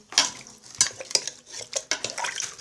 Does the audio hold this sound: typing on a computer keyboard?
no